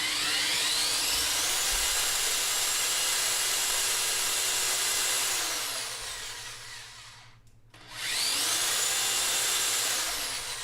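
A drill bores countersunk holes through a steel-wrapped dance pad part, whining loudly and steadily, winding down briefly near the end and then spinning back up, with no voices.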